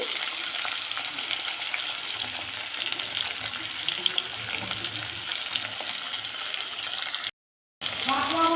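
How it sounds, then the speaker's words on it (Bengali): Chopped vegetables for a spinach ghonto sizzle steadily in hot oil in a pan, with a continuous close frying hiss and occasional stirring scrapes, broken by a brief silent gap near the end. "তো সবজিগুলো তো এই ভাজা ভাজা হচ্ছে"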